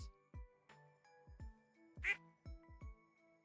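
Ducks quack in a farming video game, with several short, clipped quacks spaced irregularly over soft chiming game music, one louder bright call in the middle.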